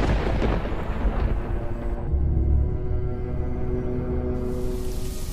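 A thunderstorm rolls on, heavy low rumbling thunder under a broad wash of rain noise, loud and continuous with a deep swelling roll partway through.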